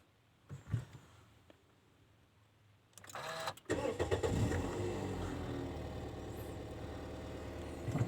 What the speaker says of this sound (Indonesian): untuk menyalakannya, khusus untuk tipe S Limited, hanya cukup menekan tombol engine start stop